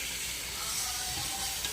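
Meat fries in a pan while being stirred, giving a steady sizzling hiss that stays dense and even from start to end.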